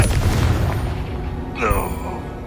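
A blasting spell in the Hogwarts Legacy video game bursts with a deep boom amid continuous rumbling battle noise, with a brief crackling flare near the end.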